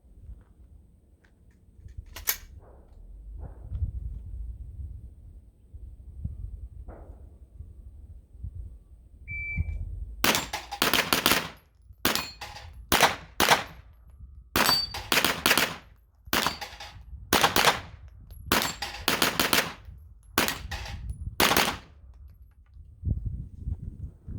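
Live-fire practical shooting practice on a transitions drill: after about ten quiet seconds with low rumble, a loud string of roughly fourteen sharp gunshots cracks out in quick, irregular bursts, close and alone with no talk.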